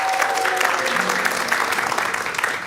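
An audience at a comedy and music showdown night breaks into steady, full applause, a dense wash of clapping that holds evenly throughout, with a few faint voices mixed in.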